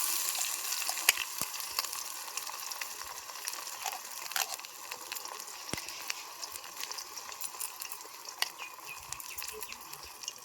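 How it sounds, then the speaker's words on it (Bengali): A paste of onion, garlic, nigella, fenugreek and curry leaves frying in hot oil makes a soft, steady sizzle with scattered light crackles and pops, heard fairly faintly. "তেলটা মোটামুটি গরম হয়ে গেছে এবারে যে পেঁয়াজ রসুন কালো জিরে মেথি কারি পাতা সব পেস্টটা এর মধ্যে দিয়ে দেবো"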